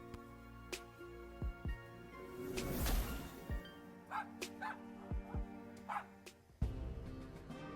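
A small terrier in the video game Lil' Guardsman gives a string of short, sharp yips and barks in uneven bursts over a soft game backdrop, with a brief whoosh midway.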